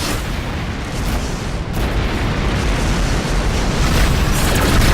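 Incoming missile explosions in the space combat game Rebel Galaxy, a dense continuous roar of blasts and rumble that swells louder toward the end, with no speech.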